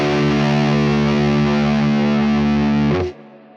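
A heavily distorted electric guitar chord through a Neural DSP Mesa Boogie Mark IIC+ amp sim rings loud and sustained for about three seconds, then is abruptly muted, with no talking.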